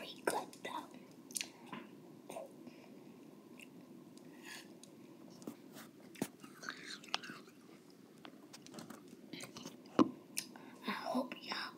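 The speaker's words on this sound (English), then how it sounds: "It's a crunchy sound." Crunchy food chewed close to the mic, soft repeated crunches and mouth sounds spread across the stretch, with faint whispering and background talk mixed in at low level.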